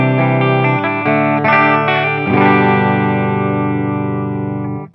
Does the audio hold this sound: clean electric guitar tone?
yes